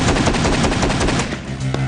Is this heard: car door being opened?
no